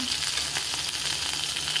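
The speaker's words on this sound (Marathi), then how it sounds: "राई मस्त आपली तडतडायला लागली" Mustard seeds, cumin, chillies and curry leaves crackle and sizzle in hot oil in a kadai, a steady close spitting hiss with no talk.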